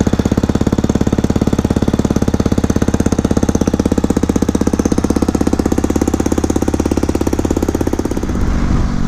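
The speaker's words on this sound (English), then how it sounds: "While it may not be quite as beastly to cold start as the 200 V4, the WR250X still sounds pretty good." A 2009 Yamaha WR250X supermoto's single-cylinder engine idles after a cold start, loud and close with a fast, steady chugging pulse, before the revs drop and it settles near the end.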